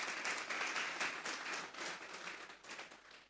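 Applause from a church congregation during a sermon: a quiet, distant patter of many hands clapping at an even level for a few seconds, with no voices over it.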